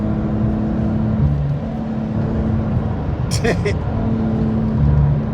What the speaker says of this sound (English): At 90 miles an hour, this car's still pulling